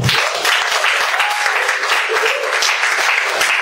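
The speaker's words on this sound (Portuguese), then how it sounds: "Aí, a palmas para Larissa, então." A church youth group audience claps steadily throughout, a dense wash of applause with a voice faintly audible underneath.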